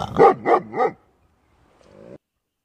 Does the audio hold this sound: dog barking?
yes